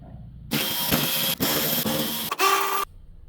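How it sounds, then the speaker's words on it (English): A power tool whirs in bursts while backing T25 Torx screws out of a Volkswagen MK7 GTI front bumper shield: a loud, close, high-pitched electric whine with brief gaps, ending in a higher-pitched final spin. "enjoy this fast forward montage of me taking them off"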